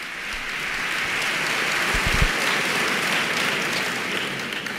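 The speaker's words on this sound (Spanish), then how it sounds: "No es por nada, pero ha sido el mejor aplauso" An audience at a Holy Week pregón claps in a sustained, dense round of applause that swells slightly and then holds steady, with a few louder thumps near the middle.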